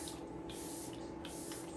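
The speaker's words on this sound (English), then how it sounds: "I'm just gonna set this down with the Power Grip setting spray from e.l.f." e.l.f. Power Grip setting spray misted onto a face at close range: two quick, airy hissing bursts with a short pause between them.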